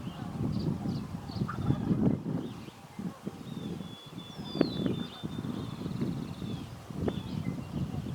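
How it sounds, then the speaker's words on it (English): A wild turkey gobbles at a distance outdoors, two or three short bursts amid wind noise and rustling leaves, with no voices. "we got a turkey over here for her to look at"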